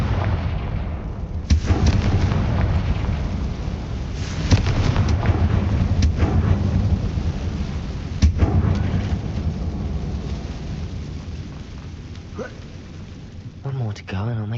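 Repeated blasts of a fire spell in Hogwarts Legacy, several heavy, booming bursts spread across a long stretch with rumbling decay, over a continuous low roar of game ambience and music.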